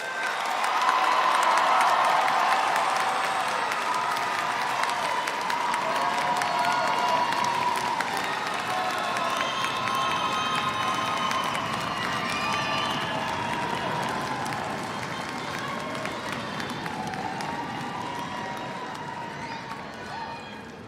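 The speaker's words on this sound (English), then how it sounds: "Let's give our graduates a final round of applause." Large crowd applauding and cheering for graduates at the University of Houston-Victoria winter commencement, a sustained dense wash of clapping with whoops and shouts that holds for the whole stretch and fades only slightly toward the end.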